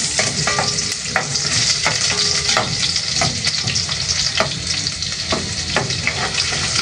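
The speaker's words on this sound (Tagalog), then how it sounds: "Gigisa na rin po natin ang sibuyas." Onions sauté in a hot pan for miswa with sardines, a loud continuous sizzle broken by regular rhythmic scraping strokes of a spatula stirring throughout.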